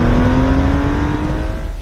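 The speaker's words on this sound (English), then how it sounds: "they don't make cars that sound like this anymore" A classic sports car engine at a test car show, heard loud and close as a steady, throaty drone held for the whole moment with no other sounds on top.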